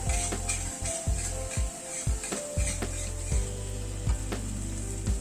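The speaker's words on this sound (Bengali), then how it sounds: "আবারও প্রায় মিনিট 2 সময় ধরে কষিয়ে নিলাম।" Fish masala sautéing in a pan over a gas flame, a steady sizzle broken by repeated rhythmic scrapes and knocks of a spatula against the pan, close and clear with no talk.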